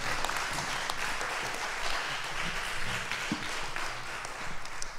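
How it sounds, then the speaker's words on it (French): Sustained applause from an audience following a literary talk on Mediterranean writers, steady and dense clapping filling the room without pause, with faint speech barely beneath. "On peut frapper dans les mains pour l'applaudir encore une fois, évidemment."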